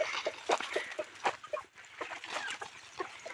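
Desi free-range chickens on a village poultry farm cluck repeatedly nearby in short, uneven bursts, several birds overlapping in a busy, continuous chatter.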